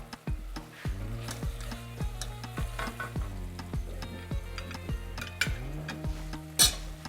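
Onions and mushrooms frying alongside chicken in a pan, a steady sizzle under repeated metallic scrapes of the spoon as it stirs, close up and continuous with no voices.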